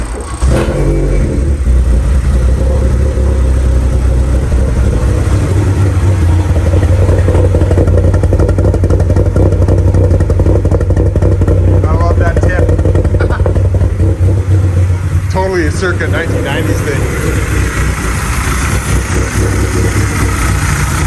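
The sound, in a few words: old car engine running with stumble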